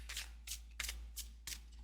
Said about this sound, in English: You see, it shuffles very easily.